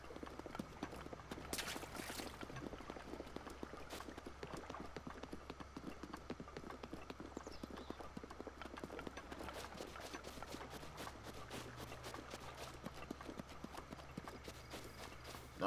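Steady clip-clop of horse hooves trotting along at a brisk, even rhythm in the video game The Legend of Zelda: Breath of the Wild, moderately close, with a faint background hum and no talking.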